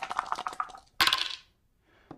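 Dice roll and clatter across a table during a HeroQuest board game, three attack dice thrown for a crossbow attack, a rattling burst that stops, then a faint later tap.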